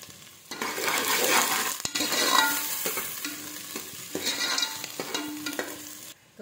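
Khichdi base of onion and mixed vegetables roasting in a hot pan, a steady broadband sizzle with repeated stirring scrapes and utensil clinks, close and fairly loud throughout with a brief pause near the end.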